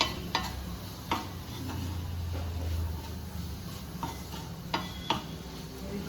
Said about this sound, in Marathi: छान तेलात परतूयात.